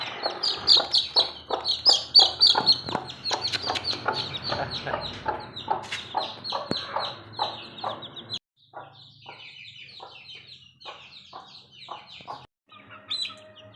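Chickens and newly hatched chicks on a small rooster farm give a dense, continuous chorus of clucks and high chirps, loud and close at first, then thinner and quieter toward the end.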